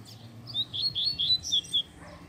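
Coleiro (seedeater) songbird singing close by in a run of bright, quick chirping phrases, several short whistled bursts in a row, over a low background hum.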